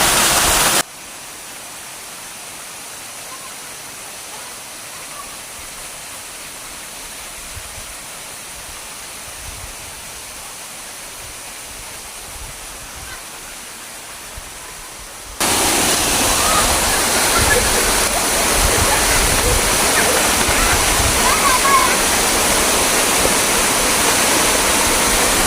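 Steady broadband roar of a waterfall, a busay feeding three clear pools where children bathe; the rush sounds moderate at first, then jumps much louder and closer about midway and holds there.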